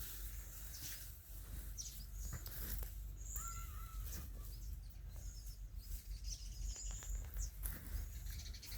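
Young birds calling from a tree on a farm cooled by a fogger system, repeated harsh cawing and chirping calls over a steady hiss of spray and background noise, fairly close and loud.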